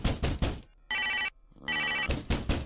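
A telephone ringtone plays in a flash dress-up video game, sounding as two loud, sustained electronic ring bursts separated by a short gap, with busier sound from the game before and after.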